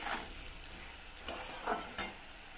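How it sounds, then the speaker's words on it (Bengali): Fried potato pieces and whole green chillies sizzle in hot oil in a pan, a soft steady hiss broken by a few scraping stirs of a utensil. "এইগুলো দিয়ে আরেকটু ভেজে নেবো। এইগুলোকে ভাজা ভাজা হয়ে গেছে আলুগুলো।"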